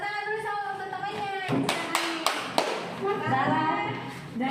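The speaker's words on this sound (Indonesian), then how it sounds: "tepuk tangan dulu sama teman-temannya" A class of children claps their hands together in a short burst of sharp, overlapping claps, with a teacher's voice talking before and after.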